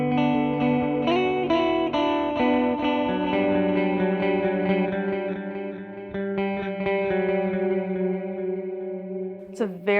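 An electric guitar runs through an MXR Joshua Ambient Echo pedal with modulation, sustained chords and picked notes ringing out with lush shimmering repeats that slowly fade, the tone clean and spacious.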